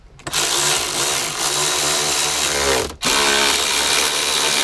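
Rapid ratchet clicking while 10mm bolts are tightened into the dash of a Toyota Tacoma during a stereo install, a loud, close, continuous buzz with a brief pause before resuming.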